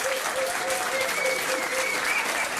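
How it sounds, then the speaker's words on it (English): A pub crowd at a trivia quiz claps for the winners in a brief, steady burst of applause, with a faint voice audible beneath. "so you give them a round of applause"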